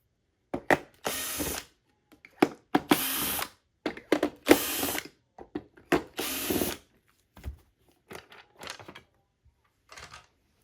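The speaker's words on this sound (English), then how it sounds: "just gonna remove the 5 screws" A power screwdriver backs five screws out of an Oreck XL Silver upright vacuum, U3770HH4, in a series of short, sharp whirring bursts separated by pauses, close and loud, with some clicks and handling between runs.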